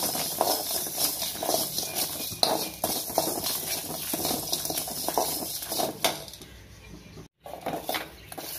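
Whole spices dry-roasting in a wok on the stove for mutton sukka masala give off a continuous light rattling and scraping, with clinks of a utensil against the pan, close and moderately quiet.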